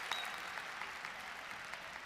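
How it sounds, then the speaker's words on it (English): A crowd at a Big Ten college wrestling dual meet between Ohio State and Rutgers claps and cheers faintly and steadily in the distance during a tied match. "There's the crowd getting into it a little bit"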